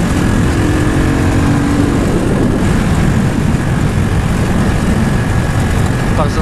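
A Mikilon 250 supermoto motorcycle engine drones loudly and steadily while riding, with heavy wind rush over it throughout.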